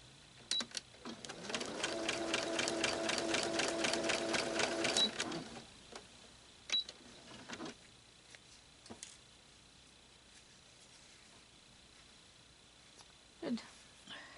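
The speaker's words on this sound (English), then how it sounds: "You're going to sew right down that line and stop at the other one." A sewing machine stitches quilt pieces in a steady, rapid mechanical run of about three seconds, then stops; afterwards come a few soft clicks and handling noises, and a voice speaks quietly.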